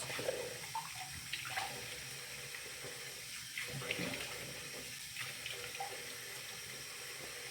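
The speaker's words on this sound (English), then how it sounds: "the rest is going to be done silently because I'm gonna have water and soap on my face" A bathroom tap runs steadily into a sink while someone washes their face with foaming soap, the broad rushing flow interrupted by splashes and hand movements, close and moderately loud.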